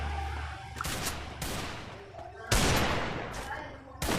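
Video game gunfire crackles in several sharp bursts, some short and some sustained, with a voice talking between them.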